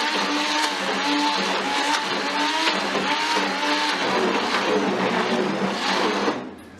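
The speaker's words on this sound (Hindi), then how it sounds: "एक दफ़ा इसमें मैं बीटर फिर चलाती हूँ" Electric hand beater churning thick haleem in a pot, a loud, steady whirring motor drone with slight pitch wobble, close and continuous before it switches off at the end.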